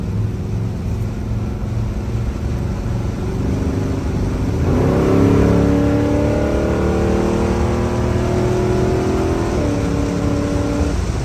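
A 1966 Chevy Caprice cruises along, its V8 droning low and loud before the Turbo 400 automatic shifts firmly midway, the engine note rising and dropping through the change, with no voices.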